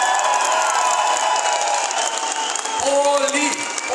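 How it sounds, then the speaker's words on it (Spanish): A crowd at a Polymarchs sound-system event in Tlalminulpa, Hidalgo, applauds engineer Polimar Silva. Steady, fairly loud clapping and cheering fills the stretch, with voices mixed in. "un aplauso fuerte para el ingeniero Polimar Silva"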